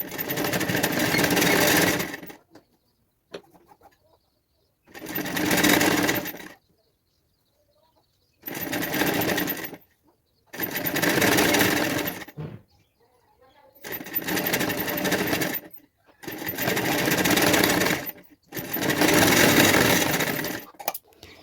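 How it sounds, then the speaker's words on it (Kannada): A sewing machine stitches blouse sleeves in six steady runs of about two seconds each, separated by short quiet pauses, close and fairly loud. "ಈಗ ಅದೇ ಸ್ಟಿಚ್ ಮೇಲೆ ಸ್ಲೀವ್ಸ್ ಇನ್ನೂ ಒಂದು ಸ್ಟಿಚ್ನ ಹಾಕಬೇಕು"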